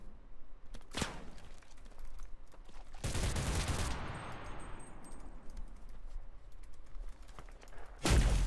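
Gunfire in the video game CRSED: F.O.A.D., with loud broadband shots near 1 s, a sustained burst from about 3 to 4 s, and another blast near the end, over a steady bed of game ambience.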